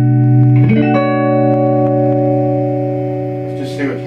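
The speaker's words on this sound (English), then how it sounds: "had it playing a 1966 Fender Jaguar," A 1966 Fender Jaguar electric guitar rings out with sustained chords through effects and reverb, a strum near the start letting harmonics hang and slowly decay, with a brief scratch of string noise at the end.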